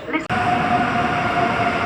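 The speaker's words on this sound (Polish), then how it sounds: "A tymczasem Elf na linii S3 do stacji Legionowo." An Elf electric multiple unit on the S3 line to Legionowo passes at Warszawa Zachodnia station on a misty day, a loud steady rumble with a faint high whine, a voice speaking over it.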